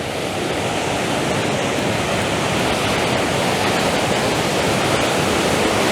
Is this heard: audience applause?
no